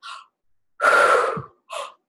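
Breathing out during an energy medicine healing session: a short breath, then one longer, forceful exhale, then another brief breath, close to the microphone with silence between them.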